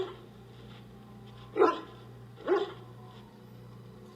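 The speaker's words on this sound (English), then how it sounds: "Stop barking!" A dog in the video game Dragon Age Origins gives two short, fairly faint barks about a second apart over a steady low background hum, with no talking.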